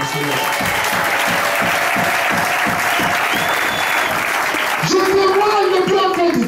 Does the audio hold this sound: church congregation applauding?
yes